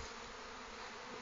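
Dense, continuous buzzing of a swarm of honey bees, steady and close, with no voices.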